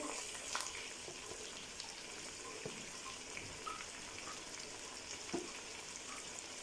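Tomatoes frying in hot oil for a Peshawari charsi chicken karahi, a quiet, continuous crackling sizzle with faint scattered clicks from the pan, no talking.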